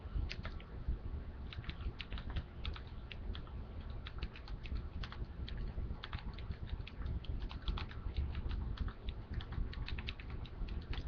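Text message being typed on a phone, a fast, steady patter of light clicking taps running evenly without a break, soft and close, with no voices.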